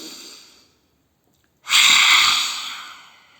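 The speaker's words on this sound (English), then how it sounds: "And exhale." A deep exhale during a breathing exercise comes as a loud, close, airy breath that swells and fades after a brief pause following a softer breath.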